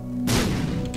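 Troll bomb exploding in The Binding of Isaac: a single sharp, loud blast over a low background hum, decaying quickly into a rumbling tail.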